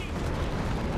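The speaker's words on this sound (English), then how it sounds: "And a nice artillery barrage." Artillery barrage in the strategy game Company of Heroes 3: dense, continuous rumbling blasts and gunfire heard under a commentator's voice, steady and mid-level throughout.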